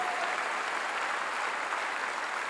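Church congregation clapping together during a Korean sermon, a steady, dense wash of applause sustained evenly throughout with no voices standing out.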